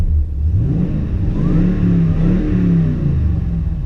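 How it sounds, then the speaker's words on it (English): A Toyota Tundra pickup truck engine with an aftermarket BAmuffler exhaust revs up and holds a deep, throaty rumble, loud and close, with no voices over it. "What we're gonna do now is we're gonna give it a few revs."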